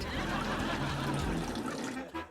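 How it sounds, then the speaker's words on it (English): Water gurgling and rushing down a drain in a house as a cat lets it run out, a continuous, fairly close churning flow that thins and falters toward the end. "this cat is draining all the water out of the house"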